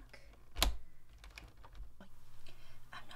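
Typing on a YUNZII Actto B303 Bluetooth retro typewriter-style keyboard with round keycaps, close-up and fairly quiet, giving a quick irregular run of clicky keystrokes with one sharper, louder clack near the start.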